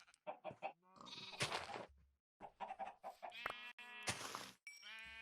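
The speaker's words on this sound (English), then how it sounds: "Chickens." Minecraft farm animals being bred, chickens among them, give a run of short clucks and bleating calls, close and clear, in several bursts separated by brief silences, with no talk over them.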